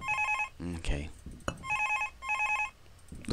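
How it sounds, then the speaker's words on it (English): A phone rings in the Five Nights at Thomas' video game, several repeated electronic trill bursts in a steady rhythm, with a person talking over part of it. "The phone calls in this game are just so annoying."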